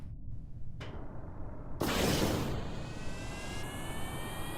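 A biplane engine in Kerbal Space Program spools up for takeoff: a short burst, then a louder roaring surge with rising whine tones, moderately loud and without talk.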